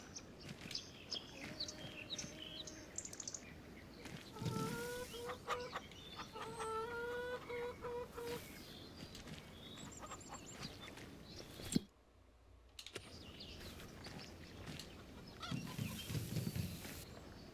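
Chickens in a farming video game cluck and chirp repeatedly over a steady ambient bed, the calls coming in scattered bursts, briefly cutting out midway before resuming.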